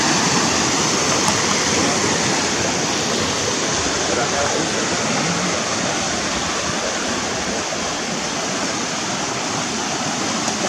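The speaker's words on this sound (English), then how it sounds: "Water's still flowing good." Stream water spills over a small dam into a pool, a steady close rush of flowing water that stays even and loud from start to finish.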